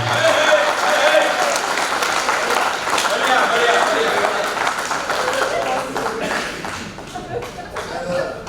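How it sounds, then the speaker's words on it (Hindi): Audience at a Hindi Rajbhasha kavi sammelan poetry gathering breaks into hearty applause, dense sustained clapping that holds steady and thins out toward the end, with a bit of laughter mixed in. "आप अपने लिए जोरदार ताली बजाइए"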